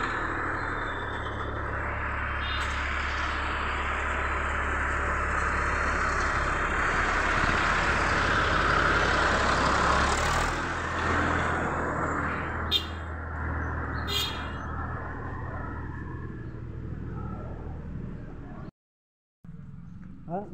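A tractor engine runs steadily as the vehicle drives home along a rural road, a continuous low drone under outdoor ambience with faint bird chirps, cutting out briefly near the end.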